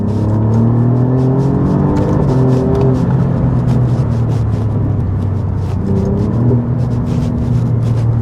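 A 2021 Alfa Romeo Giulia Quadrifoglio saloon driven on country roads in dynamic mode, its engine droning steadily with rising and falling revs, loud and close throughout without speech.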